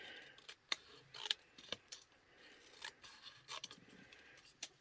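Scissors cutting material for a squirrel-themed gift card holder, a quiet series of crisp, irregular snips and rustles, close by with no talk.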